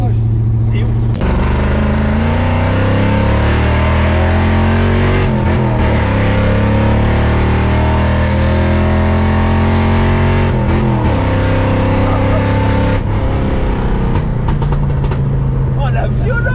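A Scania V8 truck engine revs hard and loud up close, its deep harmonic drone climbing in pitch through long pulls with brief gear-change dips, while people talk over it.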